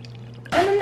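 Water pours in a short burst with a bright splashing rush into a blender for protein ice cream, starting abruptly after a moment of quiet and continuing loudly to the end.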